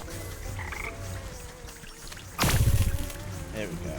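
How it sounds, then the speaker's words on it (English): Cartoonish frogs croak in a video game, a steady low croaking bed with a louder burst of croaks and splashy water midway, while a person talks over it. "Come here, froggies."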